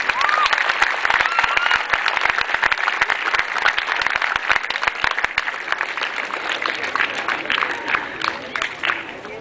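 An audience at a secondary school ceremony breaks into dense, sustained applause, many hands clapping close and loud with a faint murmur of voices underneath, tapering slightly near the end.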